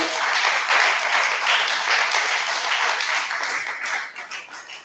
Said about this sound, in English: I'd like you to give all our debaters a round of applause.